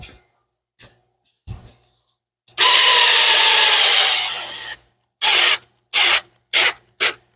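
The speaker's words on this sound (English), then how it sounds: "That's more than my drill wants to do." A cordless drill strains to turn over the big block engine of a 1983 GT Foxbody: a loud two-second grinding whir that sags in pitch under load, then several short, sharp bursts of the drill with brief silent gaps between.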